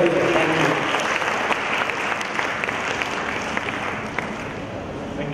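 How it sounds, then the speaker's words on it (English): An audience at the OSMECON 2017 medical conference gives a guest lecturer a sustained round of applause, a steady, dense patter of many hands that fades slightly toward the end. "Ladies and gentlemen, a big round of applause to Dr. Shri Patanjali Dev Nayar, sir."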